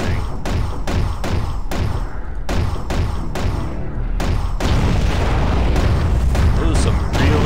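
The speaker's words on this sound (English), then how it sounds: "Those are some realistic explosions" Deep booming explosions from the underwater combat game Aquanox go off in a rapid series of heavy thuds, then give way to a denser, rumbling wash of blasts.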